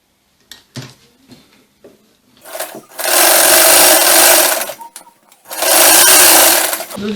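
A sewing machine stitches the side seam of a bustier blouse in two loud sustained runs, preceded by scattered light handling taps and clicks of fabric and parts.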